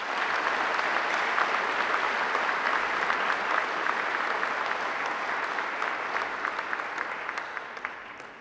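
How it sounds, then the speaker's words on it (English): An audience at a graduation ceremony gives a round of applause, with dense and sustained clapping that fills the hall and gradually thins out toward the end. "another great round of applause"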